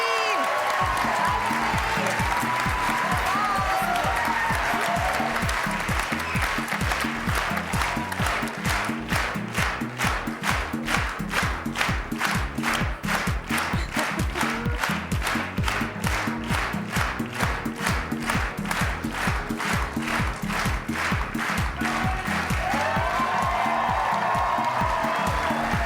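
Studio audience at a televised reality-show gala in 2006 breaking into sustained loud applause with rhythmic clapping and cheering, a dense steady crowd roar lasting throughout, with a host's voice briefly audible at the start.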